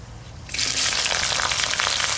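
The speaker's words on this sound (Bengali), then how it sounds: "ফোড়নে দেবো শুকনো লঙ্কা, তেজপাতা, জিরে, বড় এলাচ, ছোট এলাচ, দারচিনি আর লবঙ্গ একসঙ্গে দিয়ে দিচ্ছি।" Dry red chillies, bay leaves, cumin, black and green cardamom, cinnamon and cloves hit hot oil together in a village-style kitchen, bursting into a loud, steady sizzle after a brief quiet start, with no talking.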